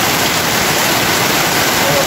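Heavy rain pours off a roof and into a canal, a loud, steady rushing and splashing of water that holds without a break throughout.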